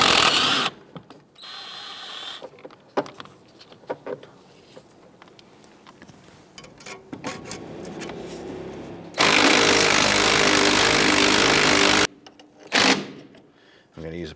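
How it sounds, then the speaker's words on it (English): Power tool spinning off a front sway bar link nut on a 1994-2004 Ford Mustang, heard as a loud sustained burst of about three seconds followed by a shorter burst, after scattered clicks and handling noise. "we need to remove the nut in order to separate everything."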